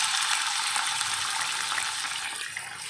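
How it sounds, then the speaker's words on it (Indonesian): Chicken skin frying in hot cooking oil, a dense bright sizzle and crackle that stays loud and steady throughout, close up, with no voices. "Kalau sudah panas, masukkan kulit ayamnya."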